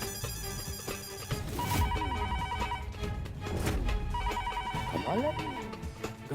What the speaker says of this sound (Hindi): घर का फोन भी नहीं उठा रहा।